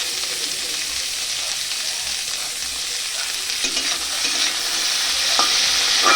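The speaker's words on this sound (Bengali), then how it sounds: "সব ভেজে নেব ভাজাটাই হচ্ছে মেন যত সব সবজিগুলো ভেজে নেব" Vegetables for a paneer dal being fried in a pan, a bright steady sizzle that swells toward the end, with a few stirring scrapes and no talking.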